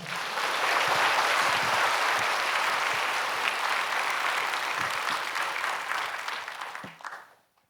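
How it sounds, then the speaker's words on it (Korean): Sustained applause from a sizable church crowd welcoming a pastor at a healing service, steady and full for several seconds before tapering off quickly at the end. "우리 큰 박수로 모시겠습니다."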